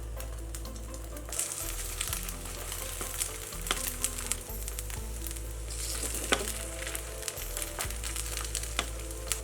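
Chive and egg batter sizzles steadily in a hot oiled pan, a dense, continuous crackle of frying up close, with a low background hum and a few brighter pops.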